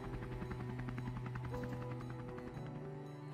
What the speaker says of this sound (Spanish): ¿Cuál helicóptero, eh?